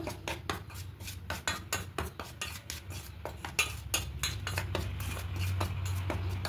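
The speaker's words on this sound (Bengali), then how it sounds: "লবণ দেব, কাশ্মীরি লঙ্কার গুঁড়ো দেব, দিয়ে খুব ভালো করে মিশিয়ে নেব।" Fish pieces being mixed by hand with turmeric, salt and Kashmiri chili powder in a bowl, a run of quick clinks and scrapes from cutlery against the dish, close and fairly quiet.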